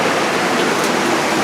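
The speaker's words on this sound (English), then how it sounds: "The waterfall is loud." A loud waterfall near a creek trail's water-control structure roars in a steady, broad, close rush with no pauses and no talking.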